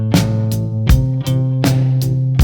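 A guitar strums chords in an even eighth-note rhythm, roughly seven crisp strokes in quick succession, loud and close with no voice.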